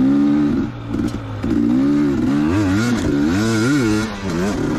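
A 2019 KTM 250XC dirt bike engine on a trail, loud and close, idling and blipping the throttle with wavering, rising and falling revs and brief dips.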